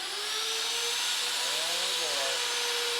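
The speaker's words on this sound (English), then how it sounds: "we're gonna drill a hole" Power drill boring a hole in a Mack truck frame during a crossmember install: a steady, loud, broadband whine runs unbroken throughout, with people talking faintly underneath.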